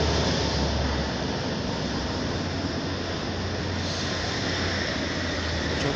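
Rumbling steady noise of a tram moving along a city street in central Lviv, a broad continuous roar with a low hum, fairly close and unbroken, with no talking.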